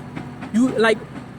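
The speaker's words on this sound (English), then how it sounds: "this motherfucking train loud as hell" A loud train rumbles past close by, its broad steady roar running under a voice as he talks over it.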